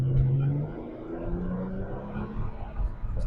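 A 3.5-liter V6 car engine revs during a test drive, a steady low drone that rises and dips from start to finish, close and fairly loud with faint road noise beneath.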